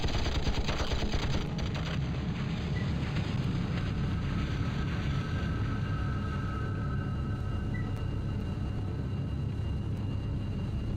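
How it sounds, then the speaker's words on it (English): Rapid minigun fire in the vehicle combat game Battlezone, a dense continuous rattle of shots held at a steady loud level throughout, with a low engine-like rumble beneath and no talking. "the minigun is actually quite effective against lightly armored targets"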